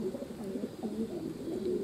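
Pigeons at a loft coo in low, rolling, repeated calls as the flock returns from an outing. The cooing is steady and close, and no one speaks.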